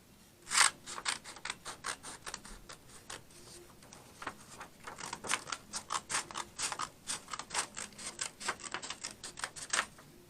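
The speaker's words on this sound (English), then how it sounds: "Gonna take the scissors, cut it like this." Scissors snip through construction paper in a clay and paper flower craft, a long run of close, crisp rasping cuts in an uneven rhythm with no talking.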